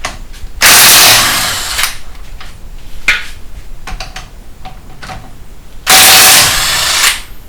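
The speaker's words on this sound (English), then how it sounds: "I was using a 17 millimeter on the cheapest impact Amazon can offer up 2 years ago" A cheap impact wrench fitted with a 17 mm socket rattles out two loud, close hammering bursts about a second long, with softer clanks and shuffling between them, during strut and wheel bearing work on a 2005 Mini Cooper.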